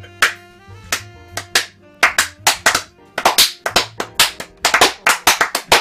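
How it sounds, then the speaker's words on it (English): A slow clap from a small group in a basement: sharp hand claps start sparse and irregular, then quicken into a denser rhythm, close and loud, over a sustained musical drone. "we started a slow clap"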